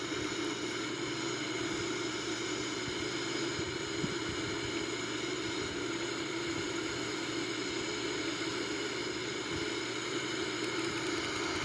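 A Boeing 787 cruises in a flight simulator game, its engines a steady, even jet drone and hiss that holds without change and carries no speech.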